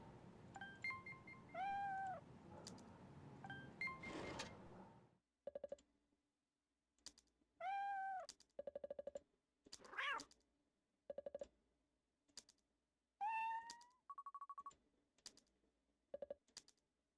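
Several synthetic cat meows from a video game, interspersed with short bursts of clicking and typing-like sound effects, loud and clear with silent gaps between them and no speech.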